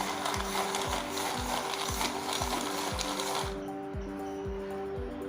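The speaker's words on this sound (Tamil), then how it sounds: "இப்போ வந்து இதை கிரைண்ட் பண்ணி எடுத்துக்கலாம்" A countertop mixer grinder runs near and loud, crushing kamala orange pulp for homemade fruit jelly, with a steady motor whine and regular thumping pulses until it winds down partway through.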